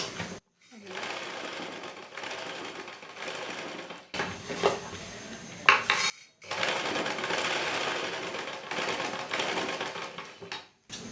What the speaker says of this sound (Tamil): இதை திரும்பி 2 தையல் போட்டுக்கோங்க.